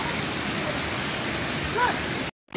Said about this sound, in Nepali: हामी चाहिँ खोलामा आइसकेका छौँ।